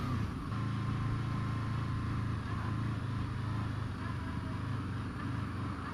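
A 2014 Honda VFR800 V4 VTEC motorcycle engine drones steadily while riding on a gentle throttle, with a low, even hum and wind rush throughout.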